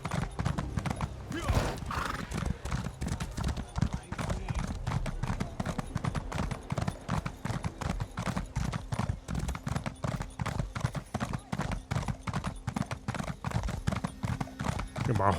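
A horse gallops in Elder Scrolls Online, its hooves clip-clopping in a fast, even rhythm that runs almost the whole time, close and prominent, after a brief opening moment.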